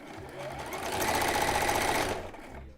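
A sewing machine stitches lingerie fabric in one continuous run of rapid, even clatter that swells and fades over a few seconds, close and fairly loud.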